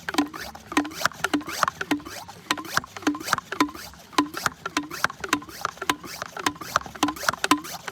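A hand pump sprayer of Nu-Brite cleaner is pumped in a rapid, steady rhythm, each stroke giving a squeaky, hollow creak, about two strokes per second, close and clear throughout.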